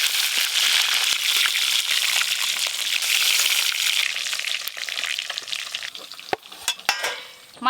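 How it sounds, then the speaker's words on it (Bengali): Bay leaf, dried chili and whole cumin hit hot oil for a fish kalia tempering: a loud bright sizzle that settles lower after a few seconds, then sharp stirring knocks near the end, no voices. "মাছের কালিয়ার জন্য তেজপাতা, শুকনো লঙ্কা আর একটু গোটা জিরে ফোড়ন দেব।"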